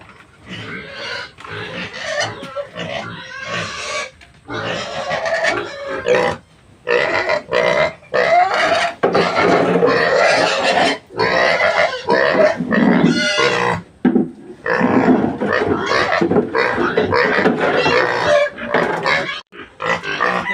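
Pigs at a farm pen, including a boar, grunt and snort repeatedly through feeding time, a dense, loud run of rough calls with short pauses and no talk.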